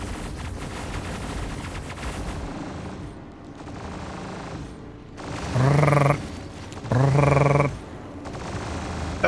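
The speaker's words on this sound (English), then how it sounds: "Firing off torpedoes." Spaceship torpedo fire in a space combat game, two loud bursts of rapid repeated firing with a pulsing, stuttering tone, rising over a steady engine rumble.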